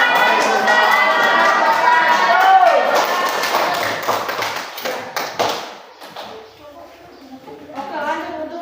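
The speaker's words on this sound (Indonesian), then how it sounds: "Berikan tepuk tangan ya" Students in an Indonesian classroom applaud after a group presentation, a dense burst of clapping with shouts and voices mixed in that thins out and fades, with chatter continuing near the end.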